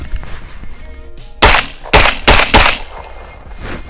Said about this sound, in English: let's go ahead and shoot a couple more.